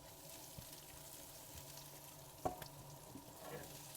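Onions frying in olive oil, a soft continuous sizzle with a faint clink near the middle, quiet and close, with no one speaking.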